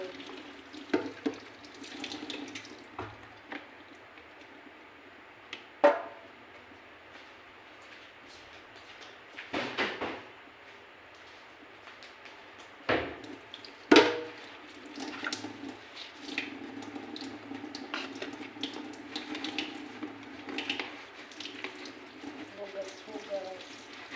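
Tap water runs and splashes while dishes get washed at a sink, the flow coming in uneven bursts with clinks and knocks, and someone talks over it now and then.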